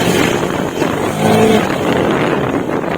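A remapped Honda Beat Deluxe scooter engine runs steadily at idle, a continuous close, loud drone with wind buffeting over it.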